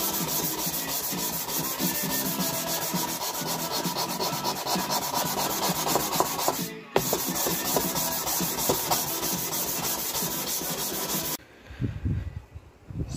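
Knife handle scales being hand sanded with sandpaper, a steady, close, continuous rasping rub that runs almost unbroken, pausing briefly once and then ending in a few lighter handling noises.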